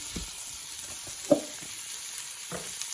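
Bacon sautéing in a pan for a pasta dish, a steady close sizzle with a few soft clinks and stirring knocks, no talk.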